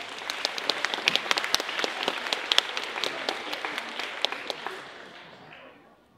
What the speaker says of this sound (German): Kräftigen Applaus.